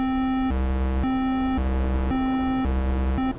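A synthesizer tone switched by a rectangle-wave LFO snaps back and forth between a low and a high pitch about twice a second, a loud, steady, buzzy two-note alternation with no voices.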